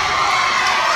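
A wrestling crowd at a PCW event roars and cheers steadily throughout, a dense, loud wash of many voices with no pauses, as fans chant for five more minutes of a title match.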